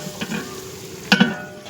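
Spices for sambar temper in hot oil, a low steady sizzle with a couple of sharp spattering crackles in quick succession near the end.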